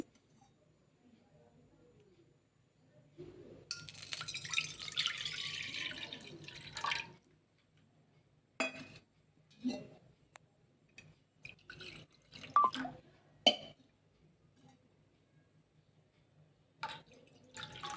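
Water is poured from a cup into a pan for semiya kesari, about one and a half cups. It comes as a few seconds of close, splashing flow, then scattered drips and light knocks in a quiet kitchen.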